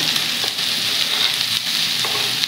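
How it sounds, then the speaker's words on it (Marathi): Onion sizzling in hot oil with cumin seeds for an egg and pea bhurji, a loud, steady crackling fry with a few scraping stirs throughout. "आपले जिरे चांगले फुलले की त्यामध्ये आपण हा कांदा घालून घेऊया"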